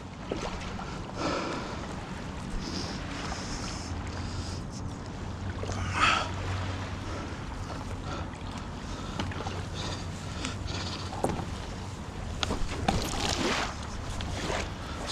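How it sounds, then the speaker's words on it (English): Waves wash steadily around a small boat out on Lake Windermere, with gusts of wind rushing past and an occasional slap of water against the hull, no voices. "the only thing I didn't expect was the waves"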